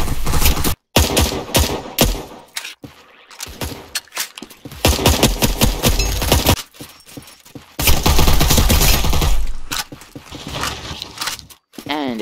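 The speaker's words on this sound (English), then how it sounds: "let's see if I can demonstrate the use of the shotgun" Loud, close shotgun blasts ring out in bursts in the shooter game Caliber, heavy punchy reports amid other gunfire and clatter, with short gaps between volleys.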